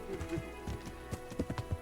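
Horse hooves clip-clopping in the medieval video game Kingdom Come: Deliverance, a quiet run of irregular, soft hoofbeats that picks up toward the end, with no one talking.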